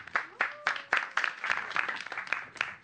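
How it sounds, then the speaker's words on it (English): A small classroom group claps in a brief, lively burst of applause, hands striking rapidly and unevenly for a few seconds. "Give him a round of applause."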